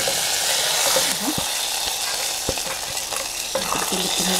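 Vermicelli being stirred in boiling milk in a pot for a budget dessert: steady scraping and swishing over a continuous bubbling simmer, with a few sharp clinks of the spoon against the pot, close and fairly loud.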